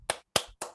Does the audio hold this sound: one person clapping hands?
yes